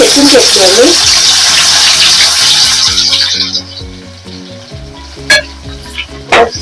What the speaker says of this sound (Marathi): तेल आपलं गरम झालेलं आहे त्याच्यात फोडणी घालते लसूण घालते